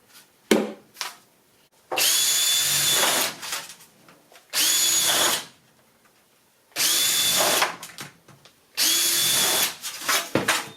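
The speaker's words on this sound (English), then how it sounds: "Drill a couple holes and just secure it with zip ties." A power drill boring holes in thin aluminum stovepipe during a home remodel: four loud, whining bursts of a second or so each, separated by quiet gaps with faint handling noises.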